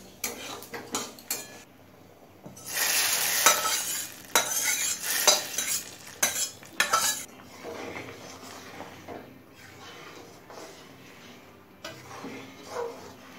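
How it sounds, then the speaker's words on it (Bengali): Hot panch phoron and dried red chilli tempering is poured into vegetable matar dal and stirred in, producing a burst of sizzling with repeated metal spoon scrapes and clinks against the pot; no talking. "এবার এই ফোড়নটা ডালের মধ্যে দিয়ে দেবো।"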